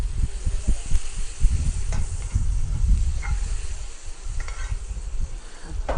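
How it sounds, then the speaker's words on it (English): Onion caramelizing in butter in a pan gives a steady close sizzle, broken by repeated scraping and stirring strokes through the frying and no speech. "So what we're going to do is caramelize the onion."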